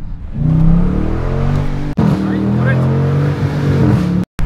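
A Dodge Challenger R/T 345 accelerates hard, its V8 note loud and close as it rises through the revs, with a brief break at a gear change before it pulls on again.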